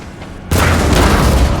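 Cannon fire in a Napoleon: Total War multiplayer battle: a sudden loud boom breaks in after half a second and rolls on as a dense, sustained rumble of gunfire.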